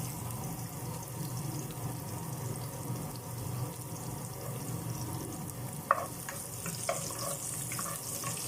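Garlic frying in a pan gives a soft, steady sizzle, and a few brief clicks of stirring come near the end.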